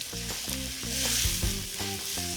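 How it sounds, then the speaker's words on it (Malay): Beef lung fried in a pan for paru goreng belado sizzles steadily and close up, while a spatula stirs and scrapes in an uneven rhythm, with no voices. "Jadi ni kena aduk-aduk."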